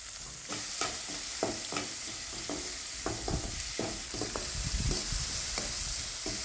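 Onions and tomatoes sauté in a pan for a Chettinad country chicken curry, giving a steady close sizzle broken by repeated scraping stirs of a spatula, with no voices.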